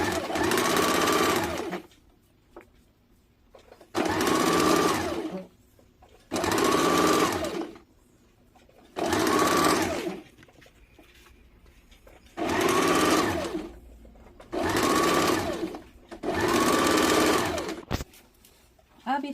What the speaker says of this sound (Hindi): अब तिरछा पट्टी को इस प्रकार डबल करके पकड़ के पहले एक सीधी सिलाई चला लेंगे